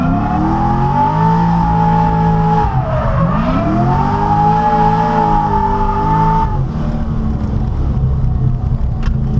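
A 489 whp C6 Corvette drifts on a track with the handbrake, its engine roaring at close range while the tires squeal in a long sliding skid that dips and recovers.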